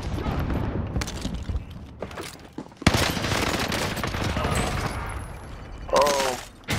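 Bursts of gunfire and explosions fill a Call of Duty: Modern Warfare match, loud and close, with a sharp impact partway through and chaotic game sounds mixed with shouting voices.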